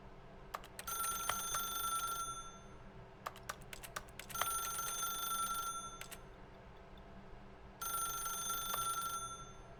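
An office telephone in the video game The Stanley Parable rings in three separate trilling bursts, moderately loud, mixed with sharp clicking taps and a steady low room hum.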